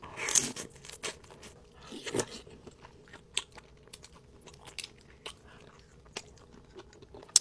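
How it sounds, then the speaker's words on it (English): Shell-on shrimp being chewed in a mukbang setting, with steady wet crunching and biting close to the microphone, irregular crackly bites continuing throughout without talk. "if you're going to eat the shell on the shrimp, make sure you chew it thoroughly because it does take a while to chew the shell."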